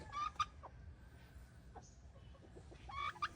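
Farm chickens cluck in short bursts over a low background rumble. The calls are fairly faint and come mostly at the start and the end.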